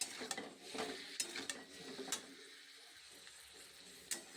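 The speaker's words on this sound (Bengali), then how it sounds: "একটু জিরে গুঁড়ো, একটু ধনে গুঁড়ো, অল্প পরিমাণ হলুদ ভালো করে দিয়ে আরেকবার আমি ভালোভাবে কষে নেব।" Vegetables stir-fried with ground cumin, coriander and turmeric, a spatula scraping and knocking the pan in irregular strokes over a low, steady sizzle, close and fairly quiet, with no talking.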